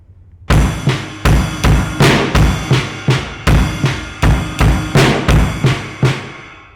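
A drum kit plays a paradiddle groove with the kick drum doubling the right-hand pattern, giving steady, evenly spaced hits with ringing cymbal wash, close and loud with no talking.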